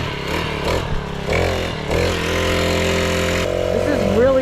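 A small Amazon-bought mini bike engine running with the choke just turned off, a close, buzzy putter that steadies into an even idle after a few uneven revs.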